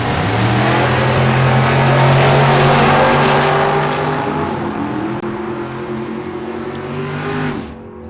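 Classic Chevrolet drag race cars blast off the line at a drag strip, loud roaring engines climbing through their revs and then fading as they pull away.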